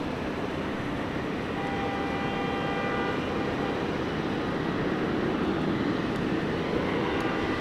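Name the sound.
Qantas Boeing 737 departing Sydney Airport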